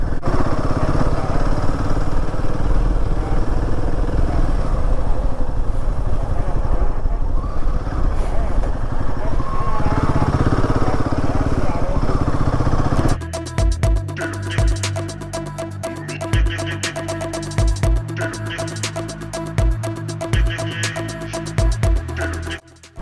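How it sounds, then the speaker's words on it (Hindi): An adventure motorcycle riding an off-road mountain road on the Adi Kailash route, its engine a continuous rough drone under wind rumble and talking, then choppy and broken up in the last stretch. "यहाँ दिक्कत आती है बाइक चलाने में सबसे ज़्यादा।"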